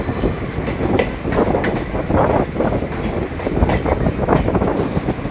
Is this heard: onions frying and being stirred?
no